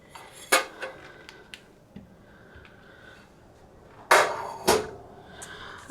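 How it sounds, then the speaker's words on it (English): A metal tart pan set down and handled in a home kitchen while making butterscotch pie, giving a few sharp clanks and taps in two separate clusters against quiet room tone. "Okay, so here's our tart pan. I got a fun little tart pan."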